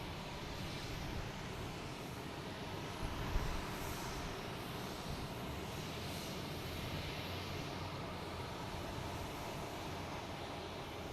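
A JetBlue airliner arriving at Boston Logan Airport from New Orleans, heard as a steady, broad engine roar that holds at a constant level throughout, moderately distant.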